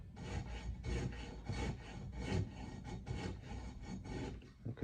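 A nut file rasping back and forth in a guitar nut's B-string slot, a series of short gritty strokes in quick succession, close and fairly loud, with no talking.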